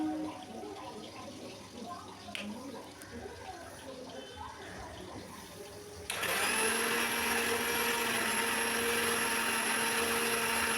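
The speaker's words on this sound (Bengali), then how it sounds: "এদিকে লঙ্কা দিয়ে সর্ষে পোস্তটা আমি কিন্তু মিক্সিতে বেটে নেব" A kitchen mixer grinder blending soaked mustard and poppy seeds with chilli. Muffled talk and kitchen noise lead in, then the motor starts abruptly and runs as a loud, steady, high whirring drone until the end.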